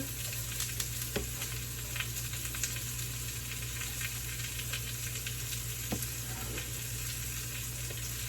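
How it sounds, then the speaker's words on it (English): Food sizzles and fries steadily in about two tablespoons of grapeseed oil in a hot pan, a dense continuous crackle with occasional sharper pops and stirring, close and alone without talk. "Always be careful when you're putting things in a hot pan that the oil doesn't splatter you."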